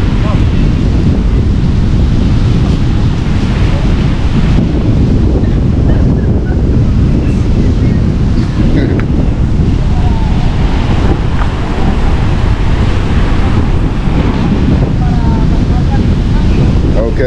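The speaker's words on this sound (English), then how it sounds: "Early morning on the beach." Ocean waves wash onto a beach in San Juan in the early morning, a steady loud roar of surf with wind buffeting the microphone throughout and no break in the noise.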